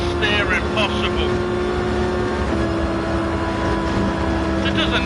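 A racing car engine howls steadily at full throttle on a flat-out Sardegna rally stage in a driving game, a sustained high-revving drone with little change in pitch while a voice speaks over it.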